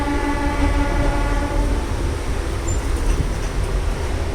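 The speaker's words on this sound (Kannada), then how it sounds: "ತುಮಕೂರು ಬಿಡ್ತು ಟ್ರೈನ್" A moving train leaving Tumkur toward Bengaluru rumbles loudly and steadily, its wheels droning with a low hum and faint tonal whine riding on top.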